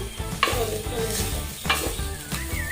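Kashmiri chili and spices stirred in hot oil for potato chop filling, a steady close sizzle with scraping strokes of a spoon against the pan.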